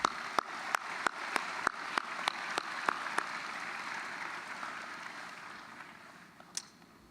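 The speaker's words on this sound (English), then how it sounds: "Let's give these folks a round of applause." Applause from an audience at a university commencement ceremony, faint and distant, with a few sharp claps near the start before the clapping fades into a soft wash.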